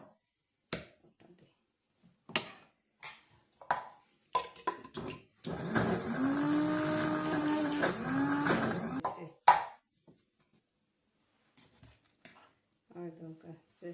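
An electric blender whirs steadily for about four seconds, processing a dried fish chutney with mustard seeds, with short spoken words and clatter before it and talk again afterward.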